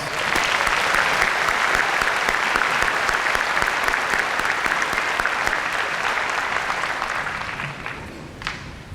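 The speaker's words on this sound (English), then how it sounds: "Let's give them one more round of applause." Sustained applause from a large crowd at a high school commencement, thick and continuous clapping that holds strong for most of its length before gradually tapering off at the close.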